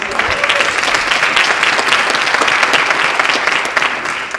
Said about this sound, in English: And another round of applause, please, for Dr. Adrian.